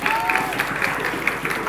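A short burst of applause for the jury at a high school quick-answer quiz competition, a dense, close patter of clapping with a voice over it.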